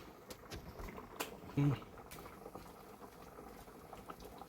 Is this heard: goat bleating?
no